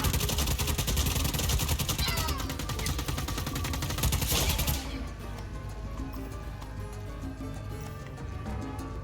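Rapid machine gun fire from a video game rattles in a dense, continuous burst for several seconds, then gives way to quieter in-game ambience with scattered distant clatter.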